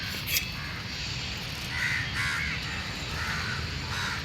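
Crows caw in short bursts outdoors while being fed scraps of brownie, several calls at moderate distance over a steady background hum, with no talking.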